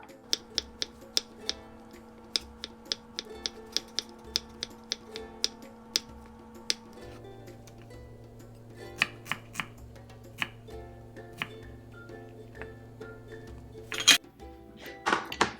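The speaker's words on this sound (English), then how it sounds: "So for squash, I already sliced like this, so then it's very easy to get that matchstick shape" A knife cuts sliced squash into matchsticks on a board, giving a steady train of crisp, close chopping taps with slight clinks. A low sustained hum runs underneath, and no one speaks.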